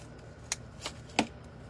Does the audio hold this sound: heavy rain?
no